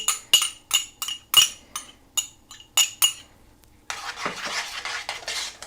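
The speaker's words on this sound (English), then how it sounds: "And let's give this a stir." A spoon clinks repeatedly against a bowl or pot while a puree with chopped chives and parsley is stirred, giving about eight sharp close taps, then a softer continuous scraping swirl.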